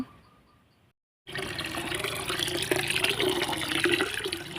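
Groundwater pumped for watering a vegetable garden rushes out in a steady, close stream of pouring water that starts after a short silent pause and continues to the end.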